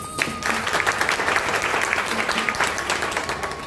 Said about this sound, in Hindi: मैं खुद एक बार तालियों के साथ स्वागत करना चाहता हूँ